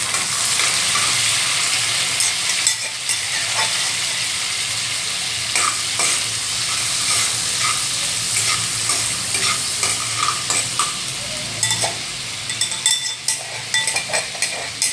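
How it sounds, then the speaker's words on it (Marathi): Hot oil tempering for a brinjal bharit with crushed green chilli, a steady loud sizzle with frequent sharp crackles and pops across the whole stretch, and no talking. "आता आपण भरताला फोडणी देऊन घेऊया"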